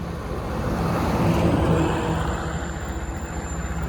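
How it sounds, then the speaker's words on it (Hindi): A large truck approaches along a village road near Chhal Dharamjaigarh in Chhattisgarh, its engine and tyres a steady, close rumble of traffic noise with no talking. "आगे से आ रहा है बहुत बड़ा ट्रक"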